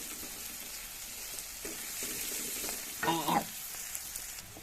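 Sliced bitter gourd (kakarakaya) frying in oil in a pan, a steady close sizzle with a brief louder burst of stirring partway through.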